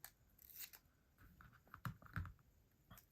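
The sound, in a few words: scissors cutting paper sticker in half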